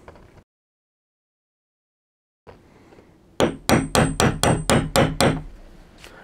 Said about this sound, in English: finish it off either with the tack hammer or use a nail punch here.